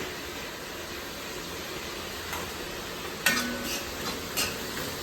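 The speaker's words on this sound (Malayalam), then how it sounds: "ഇത് ഇളക്കിളക്കി കൊടുക്കാം കേട്ടോ" Beef curry for kappa biryani gets stirred in a pan, a faint, steady scraping sizzle broken by a few light utensil knocks near the end.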